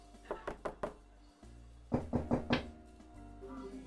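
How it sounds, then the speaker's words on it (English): Two bursts of door knocking in the video game NORCO: a quick run of four raps, a short pause, then a second run of four, close and clear over a low ambient hum, with no talking. "That was the secret knock."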